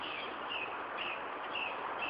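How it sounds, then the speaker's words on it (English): A bird sings from the trees overhead in the woods, faint repeated chirping phrases over a soft, steady outdoor hiss. "I can hear a bird singing somewhere in the trees above me right now."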